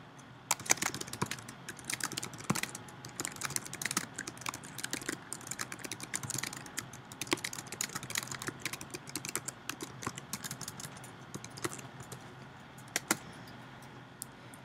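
Steady, soft typing on a computer keyboard, with a continuous patter of light key clicks throughout and no talk, as a user types text into a shared group document.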